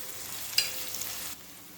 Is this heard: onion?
yes